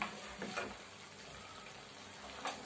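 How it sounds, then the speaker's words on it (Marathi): Chicken lollipops being stirred into gravy in a pan, a soft, close sizzle with a few scraping stir strokes, no talk. "चांगलं जरा मिक्स करून घ्यायचं फक्त"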